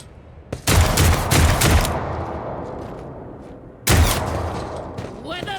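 Heavy bursts of gunfire in Warhammer 40K Rogue Trader: two loud volleys of shots early, a decaying rumble, then another sharp burst near the end, with speech at times.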